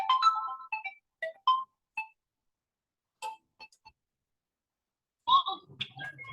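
A mobile phone rings during a class. Short, bright electronic ringtone notes sound in separated bursts with silent gaps, ending in a denser run of tones.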